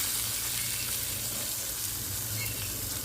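Hot tempering of oil with curry leaves poured over Tirunelveli-style okra pachadi, giving a steady, close, bright sizzle that holds evenly throughout with no voices.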